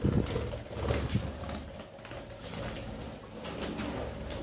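A budgerigar's small wings flutter in rapid, repeated flapping bursts close by in flight, a soft whirring that rises and fades over a few seconds with no talking.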